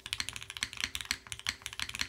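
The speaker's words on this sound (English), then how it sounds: "It has just like this very full, comfortable typing feel." Someone types on a custom mechanical keyboard, producing a rapid, steady run of crisp, full-bodied keystrokes. The clacks are close and clear, with no talking.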